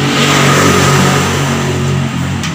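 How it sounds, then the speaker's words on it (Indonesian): Suzuki Shogun motorcycle, converted to a Supra CDI for racing, running with a loud, close engine held at steady revs before easing off slightly near the end. "Bagaimana cara menghidupkan motor Shogun ya?"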